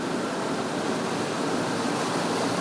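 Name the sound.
vehicle crossing the Crooked River, water rushing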